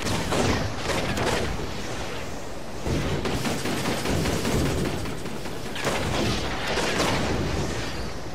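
Artillery pounds away in the Xbox 360 game Toy Soldiers, with loud, dense bursts of booming fire in three long waves separated by brief dips, and no voices over it.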